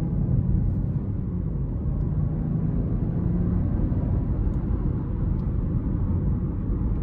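A 2024 Buick Envista's 1.2-liter 3-cylinder engine pulls under acceleration, a steady low rumble heard from inside the cabin with no talk.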